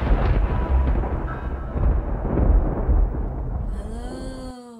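Thunder on a dark, stormy night: a long, loud, rumbling roll that fills the scene and slowly fades, ending with a spooky howling wind-like whistle for a Halloween comedy opening.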